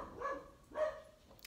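A dog barks twice at a moderate distance, sharp separate yelps set off by a neighbour's leaf blower cleaning gutters, with a faint shorter sound near the end and no talking.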